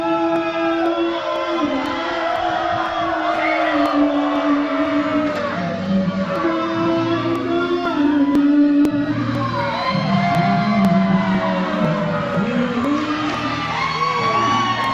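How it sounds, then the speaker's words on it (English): Crowd at a live wrestling event roaring and cheering, with loud sustained yelling, whoops and shouting voices swelling and rising throughout. "You listen at the crowd as they hear the roar and the energy pick up for the UCW Heavyweight Champion."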